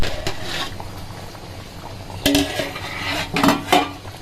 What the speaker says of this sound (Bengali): বলক আসছে, এখন কি চুলা কমায় দিবা?